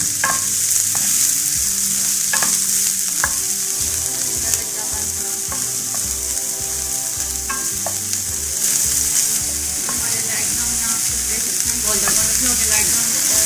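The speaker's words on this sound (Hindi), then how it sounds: "इसमें मैं नेक्स्ट ऐड करूँ प्याज, इसको भी लाइट सा फ्राई करूँगी मैं।" Onions lightly frying in a pan for a basic salsa sauce, a steady close hiss and crackle of sizzling oil with occasional stirring clinks throughout, no talking.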